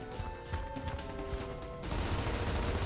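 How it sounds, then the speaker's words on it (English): Sustained gunfire from Gears of War, a dense rattle of shots with metallic clatter that swells louder and busier toward the end, game music tones ringing underneath. "Who are you shooting at?"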